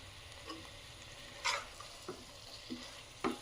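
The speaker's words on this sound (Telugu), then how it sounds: "పసుపు వేసుకొని వీటిని వేపుకోవాలండి" Tomato rice ingredients frying with turmeric in a pan, a faint steady sizzle broken by a few soft spoon scrapes and taps, close but quiet.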